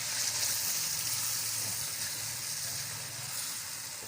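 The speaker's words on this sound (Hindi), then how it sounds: "ये मसाला इसका पकना शुरू हो गया है।" Masala mixed with whisked yogurt sizzles steadily in a pan for stuffed eggplant, a continuous even frying hiss with no talk.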